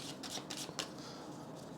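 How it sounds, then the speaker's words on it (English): A deck of game cards is shuffled by hand close up, making quiet rapid riffling bursts with brief flutters and soft taps, faint and without talk. "We'll just shuffle this."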